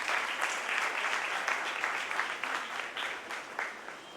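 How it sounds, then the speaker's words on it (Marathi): A school event audience, with former students and classmates present, applauds steadily: dense, continuous clapping from many hands with scattered louder bursts, fairly close and filling the whole stretch without voices on top. "पुन्हा एकदा तुम्हा सर्वांसाठी एकदा जोरदार टाळ्या होतात."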